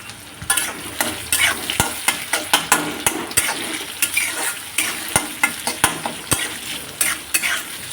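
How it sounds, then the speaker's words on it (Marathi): Long-sliced onions fry in a pan with white urad dal, green chillies and curry leaves, a constant sizzle broken by regular, close scraping strokes of a spoon stirring the mix. "छान परतून घेते थोडंसं कांद्याला लाल रंग येईपर्यंत."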